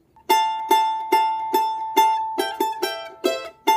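Charango plucking the closing three phrases of Virgenes del Sol, a string of bright, evenly spaced strums and picked notes that ring close and alone, quickening toward the end.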